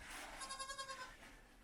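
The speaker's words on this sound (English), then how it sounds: "Goats really enjoy climbing and being up high." A goat in a farm pen lets out one faint, quavering bleat of under a second, with a pulsing tremble, over quiet background.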